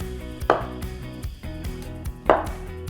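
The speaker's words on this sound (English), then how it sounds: "We get the firm tofu and we cut it into little cubes" A knife cuts firm tofu into small cubes on a board: quiet soft slicing with two sharper chops hitting the surface, heard up close with no speech.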